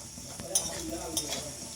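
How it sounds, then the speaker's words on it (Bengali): Lentil dumplings (bori) fry in hot oil in a kadai, giving a steady close sizzle with soft stirring scrapes and no talk. "এটা লাল লাল করে ভেজে নেবো আমি"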